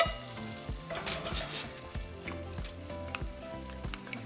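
Minced garlic and chopped green onions sizzle softly in melted butter, a quiet crackle with occasional stirring sounds beneath light background music.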